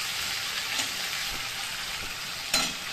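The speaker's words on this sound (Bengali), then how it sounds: "দিয়ে আমি এবার মশলাটাকে সাঁতলাতে থাকবো।" Spices, turmeric and chili powder, fry with finely chopped tomato and ginger in a pan, making a loud, continuous close-up sizzle with faint stirring and a single brief clink near the end.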